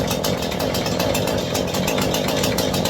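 A Husqvarna 440 chainsaw engine runs close and loud with a fast, even pulsing idle throughout, heard alone with no talking.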